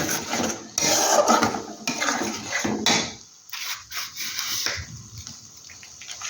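A cashew and poppy seed paste is sautéed in a pan, with irregular rasping scrapes and rubbing strokes of a utensil against the pan, some bursts louder than others, with no voices.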